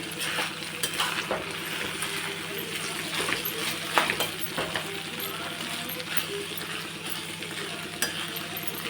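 Vegetable mixture with ground masala paste stirred in a pan for a mixed Bhogi bhaji, with steady scraping and light sizzling continuing throughout, close and moderately loud, with intermittent clinks of a utensil against the pan.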